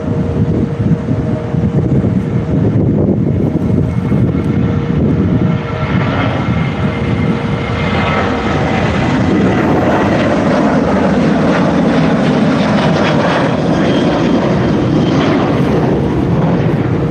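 An airplane takes off down an airport runway, its engines roaring loud and steady throughout with a continuous rumbling drone and no talk.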